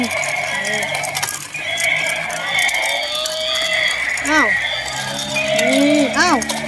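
Several short, pitched moo-like calls from a toy cow rise and fall over a busy background with light chatter, two clusters of warbling tones near the end.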